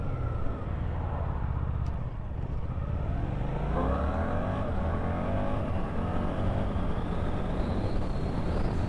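A Suzuki GSX-8S motorcycle accelerates hard through the gears with its quick shifter. The engine note climbs repeatedly in pitch, broken by short ignition-cut upshifts, with wind rush over a steady loud roar and no talking.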